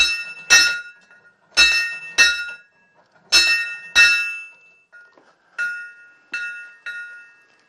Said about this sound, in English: I'm going to give the bell a little ring here